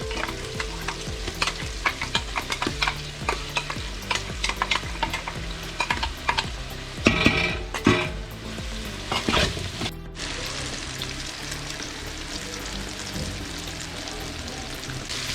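Garlic ginger paste fries hard in a pan for a Malappuram chicken biriyani, a dense continuous sizzle with repeated scraping strokes of a spoon stirring throughout, close and loud, with no speech.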